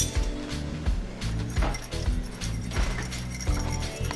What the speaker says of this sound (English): And then I'm going to mix it up.